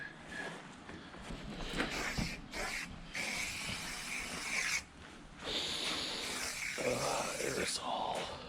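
An aerosol spray can hisses in steady bursts at a pondless waterfall build site, with a couple of brief pauses between sprays.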